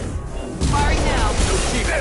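Gunfire in the game Mass Effect, a dense burst of rapid shots erupting abruptly after a short quieter lead-in and continuing loud and sustained, mixed with battle noise.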